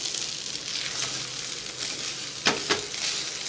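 Flattened rice (aval) for aval upma fries in a pan with a steady soft sizzle, broken by two sharp scraping stirs near the end.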